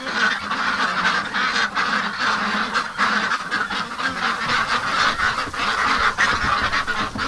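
A pen of ducks and geese honks loudly and continuously, many birds calling over each other in a dense, overlapping clamor close by, with no pause throughout.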